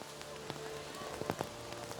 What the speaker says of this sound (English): as the rain continues to come down in buckets.